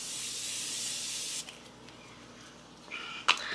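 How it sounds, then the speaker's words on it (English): Morphe setting spray misted from a bottle in a steady, close hiss lasting over a second, followed by quiet handling noises and a small click. "Using the Morphe setting spray."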